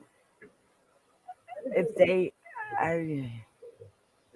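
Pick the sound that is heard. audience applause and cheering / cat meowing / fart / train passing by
cat meowing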